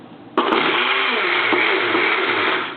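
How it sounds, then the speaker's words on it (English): Kitchen blender on its ice crush setting chopping chunks of strawberries for a smoothie. The motor kicks in abruptly and roars loudly and steadily for over two seconds, then winds down. "I'm doing ice crush again because I still have those full chunks of strawberries in there that I needed to crush up"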